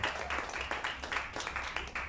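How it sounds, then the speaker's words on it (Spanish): A church congregation applauding during a Spanish-language worship service, steady rhythmic clapping from a crowd at moderate distance, fairly faint and continuous throughout. "Denle un fuerte aplauso al Señor."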